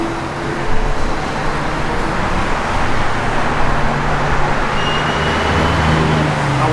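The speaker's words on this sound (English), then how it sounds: "Good sounding chamber dual exhaust." A 1970 Chevrolet C10 pickup with chambered dual exhaust rumbles steadily at idle or low revs, a loud, close, continuous low drone without talk.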